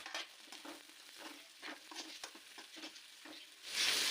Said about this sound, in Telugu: సన్నగా తరిగి పెట్టుకున్న క్యారెట్ క్యాప్సికమ్ ముక్కలు కూడా వేసుకుందాము అలాగే క్యాబేజీ కూడా సన్నగా తరిగి పెట్టుకున్నాను దీన్ని కూడా వేసేసుకుందాం